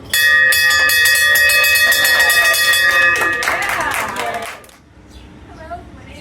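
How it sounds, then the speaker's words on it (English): A hand bell rung in celebration at a hospital transplant milestone clangs repeatedly and loudly, its ringing tones sustained, then gives way to clapping and cheering from a small crowd with voices. "I'm ringing the bell today"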